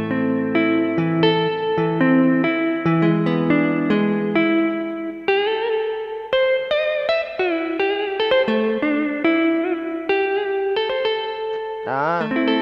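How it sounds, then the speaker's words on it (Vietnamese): A Yamaha PSR-SX600 electronic keyboard plays a melody in a synthesized guitar voice, notes plucked and sustained with a bright, slightly effected tone, ending in a pitch bend. "Đây là tiếng guitar hồng trà nè mọi người."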